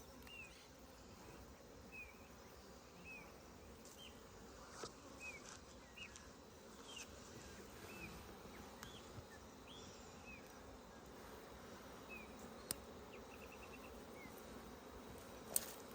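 A bee swarm buzzes during a rescue from a tree trunk, a faint, continuous hum of many insects in an outdoor setting, with occasional brief clicks and no voices.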